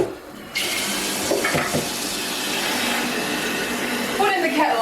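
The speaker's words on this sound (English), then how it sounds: "the next thing I need to do is boil the kettle again" An electric kettle boiling water in a home kitchen during vegan meal prep, a steady broadband rushing hiss that starts abruptly and holds close and loud for several seconds, swelling slightly toward the end.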